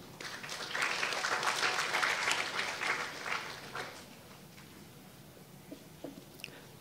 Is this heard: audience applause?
yes